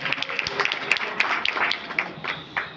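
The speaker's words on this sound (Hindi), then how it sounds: "जोरदार तालियों से।" An audience at a staged singing of the Bhagavad Gita gives a short burst of applause for a performer, with quick overlapping claps that fade within a few seconds.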